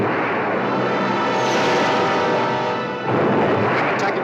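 Weapon fire from a warship in the giant monster film Gorgo: a loud, sustained roaring blast that dips briefly near the end, then surges back just as heavy.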